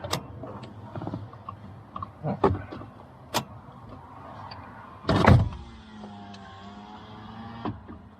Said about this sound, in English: put your window down